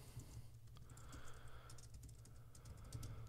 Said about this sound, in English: Wow, typing.